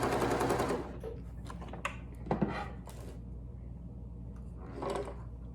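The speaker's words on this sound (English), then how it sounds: "Now I'm just stitching in white just so you all can see this on the video." A home sewing machine stitches a neck gaiter mask in white thread, giving short bursts of fast mechanical whirring and clicking up close, with a louder run at the start and brief pauses between stitches.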